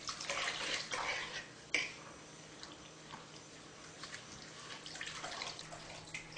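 Water poured gradually into rava idli batter while it is stirred, giving soft splashing and wet mixing sounds up close with a sharper pour burst near the start and gentle sloshing after.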